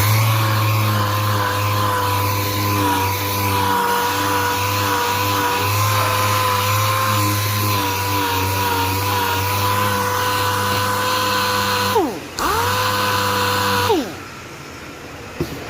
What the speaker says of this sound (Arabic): ونبدأ نصنفر فوق